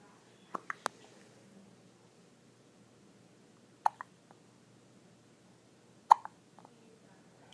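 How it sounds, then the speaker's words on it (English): A small boy hiccups in short, sharp bursts: a quick cluster of three near the start, then two more hiccups spaced a couple of seconds apart, each close and fairly loud against a quiet room with no talking. "Somebody's got hiccups"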